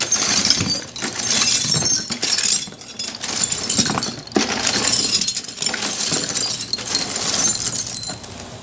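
Metal bolts, including M8 bolts, clatter and clink as hands dig through a bucket of them in a garage during a 1997 Honda Civic restoration. The jangling comes in continuous bursts with brief pauses.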